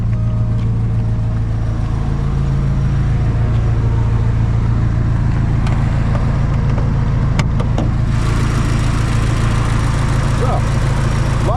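A 1987 Porsche 944 Turbo (951) engine idles with a steady low rumble, close and loud, continuing unchanged throughout.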